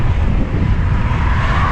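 Wind buffets the microphone of a road cyclist riding on busy roads toward Harrogate, a constant loud rushing roar with low gusty rumbles and no voices.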